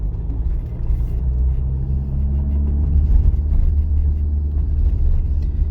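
Car driving straight ahead at steady speed during a driving test, a continuous low engine and road rumble heard from inside the cabin, with no talking.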